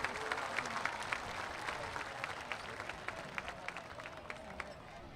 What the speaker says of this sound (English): Big round of applause for Joe there.